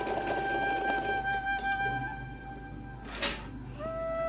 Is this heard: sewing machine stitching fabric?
yes